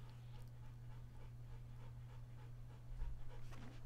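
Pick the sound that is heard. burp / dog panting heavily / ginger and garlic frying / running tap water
dog panting heavily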